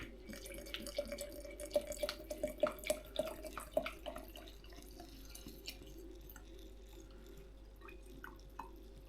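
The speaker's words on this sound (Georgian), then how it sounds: "ამის მერე უნდა დავასხა რამდენიმე საათით ნადგომი ოთახის ტემპერატურის წყალი" Quiet trickle and drips of room-temperature water pouring into a glass jar of wheat for fermenting, with scattered clinks and splashes that thin out toward the end; no talking.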